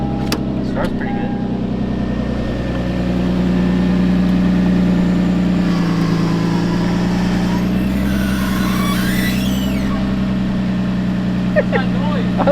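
A Lexus IS300 engine idles steadily with a low rumbling drone after starting, while voices talk over it throughout.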